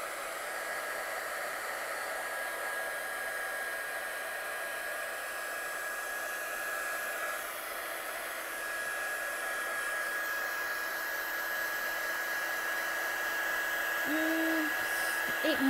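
A hot air gun blows steadily to dry paint, a loud continuous airy roar with a faint whine that holds for the whole stretch and swells slightly toward the end.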